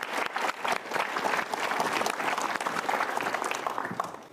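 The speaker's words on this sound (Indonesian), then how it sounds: "berikan tepuk tangan sekali lagi" Studio audience on the Mario Teguh Golden Ways talk show giving another round of applause, a full, dense burst of clapping that holds steady throughout and tapers slightly at the end.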